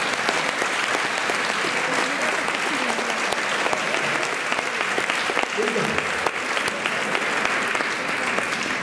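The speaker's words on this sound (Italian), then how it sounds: "Vedo che applaudono anche degli uomini" Sustained audience applause at a literature festival, a dense continuous patter of many hands clapping at steady loudness, with a brief murmur of voices underneath partway through.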